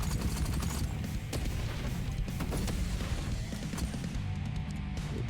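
Continuous gunfire and explosions fill the Warhammer 40,000: Shootas, Blood & Teef game action, a dense, loud barrage of rapid shots and booms with no pauses and no talking.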